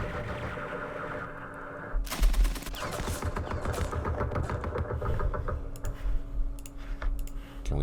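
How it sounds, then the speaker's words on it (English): Gunfire in a Vietnam War video game breaks out abruptly after a quieter stretch: rapid crackling shots and machine-gun rattles in dense, uneven bursts, loud and close, continuing for several seconds. "Start firing."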